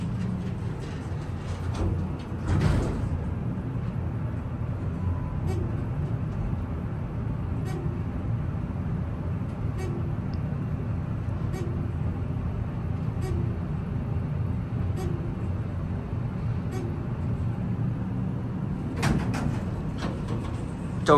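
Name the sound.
Dover traction elevator running during ride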